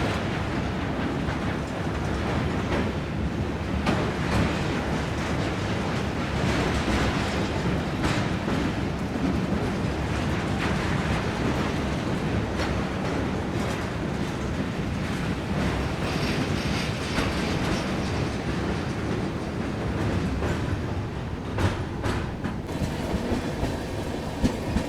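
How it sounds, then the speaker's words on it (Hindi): The Trivandrum Rajdhani Express (12431) overtakes the Dwarka Express at Malarna station, heard as a continuous loud rumble with rhythmic wheel clatter and rail noise throughout, with no talking. "मलारना रेलवे स्टेशन पर हम लोग ओवरटेक कर रहे हैं द्वारका एक्सप्रेस को"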